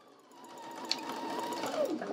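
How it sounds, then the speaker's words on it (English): A sewing machine stitches a 5/8 inch seam allowance in steady, close, continuous running, with a faint brief click near the start. "And then we're going to carefully sew this at the 5/8 of an inch seam allowance."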